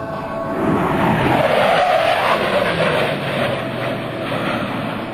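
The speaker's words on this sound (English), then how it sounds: "You can listen for the precise power changes that he makes to get this Hornet on the ground." A powerful F/A-18C Hornet jet engine roars steadily throughout during a landing at an airshow, its broadband rumble swelling and easing slightly as the power shifts, with no voices.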